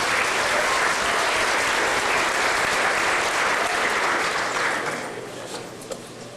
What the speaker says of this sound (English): Let's give them a whole round of applause.